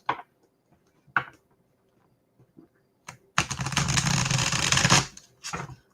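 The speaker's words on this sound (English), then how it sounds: "God, I love how these cards shuffle." A deck of tarot cards riffles in a long, dense burst, preceded by a few soft taps and clicks; close and fairly loud, with no talking.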